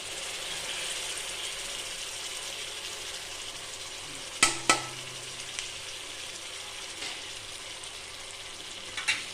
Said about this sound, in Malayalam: എന്നിട്ട് നന്നായി ഒന്ന് മസാല മൂപ്പിച്ചെടുക്കാം